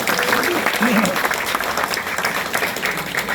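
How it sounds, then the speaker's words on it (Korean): Dense applause fills a room of supporters at a campaign office opening in Seo-gu, Incheon, with steady clapping and a voice speaking over it. "큰 박수 부탁드립니다"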